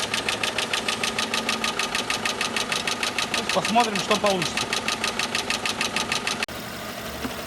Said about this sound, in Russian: То есть слышно, как работает мотор.